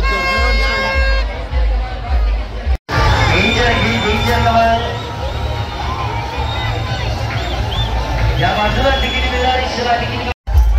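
A dense crowd at the Varsoli yatra fair in Alibag fills the air with loud hubbub, shouting and chatter. Nearby voices talk over the din, and the sound drops out twice briefly.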